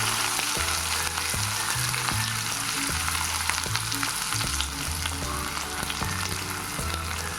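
Onions fry in oil seasoned with fenugreek powder for a paneer curry, a loud, dense, continuous sizzle with a low melodic tone running beneath it.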